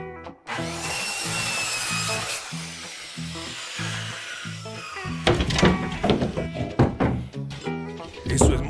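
Power tool, likely a reciprocating saw, cuts through a wooden shelf support during a DIY kitchen renovation, first in a steady pulsing run, then rougher and louder with bursts of splintering wood near the end.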